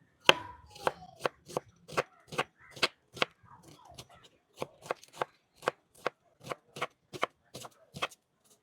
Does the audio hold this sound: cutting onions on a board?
yes